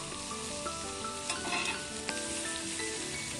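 Fish frying in a pan for a Marathi-style fish curry, with pieces being turned over: a steady sizzle with a few soft knocks as they are flipped, fairly close and without any voices.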